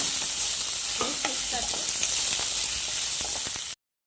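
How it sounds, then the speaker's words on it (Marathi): Green peas frying in hot oil for paneer batata vada, a steady close sizzle throughout with a few scraping stirs of a utensil, ending abruptly in silence. "त्यानंतर टाकूया आपण वाटाणे आधी तेलामध्ये चांगले फ्राय करून घेऊया"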